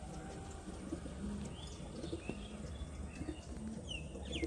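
Pigeons coo softly amid other faint bird chirps in a pigeon loft, low murmuring calls repeating against a steady outdoor background hum.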